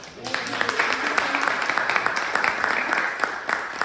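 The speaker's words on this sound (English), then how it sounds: "So please join me in giving Jennifer one last round of applause and appreciation" Audience applause at the close of a community history talk, a smaller crowd clapping steadily with individual claps standing out, and a voice speaking briefly over it.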